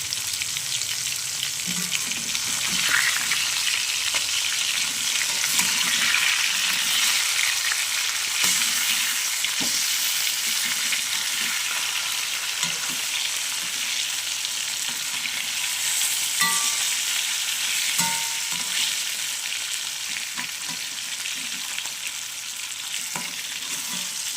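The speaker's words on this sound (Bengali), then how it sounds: "মাছগুলো আমি ভেজে নেব" Pieces of aar fish fry in hot oil in a home kitchen. A loud, steady sizzle runs throughout, with faint clinks and stirring sounds and no talking.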